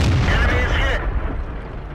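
An SU-101 tank destroyer's gun fires in World of Tanks, a single loud boom followed by a rumbling decay that cuts off abruptly.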